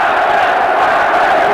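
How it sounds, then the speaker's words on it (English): Boxing arena crowd at a Mike Tyson fight roars and shouts in a loud, continuous wall of voices, urging the fighter on without a break. "Now the crowd begins to implore Tyson"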